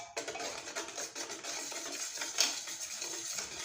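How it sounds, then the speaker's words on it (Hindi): Pearl millet (bajra) flour mixture being stirred in a bowl, a steady run of soft scraping and light clinking from the utensil, close and fairly quiet, with no voices. "फिर से इसको मिक्स कर लेते हैं।"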